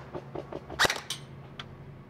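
A Lancer Tactical Elite Multi Mission airsoft carbine fires through a chronograph: a few light snapping shots in quick succession, one louder crack in the middle, close and with no talk.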